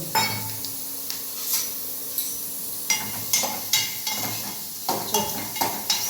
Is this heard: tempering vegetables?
yes